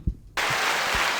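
Sudden burst of applause from a small podcast group that starts after a brief pause and holds steady, dense clapping filling the room, close and loud.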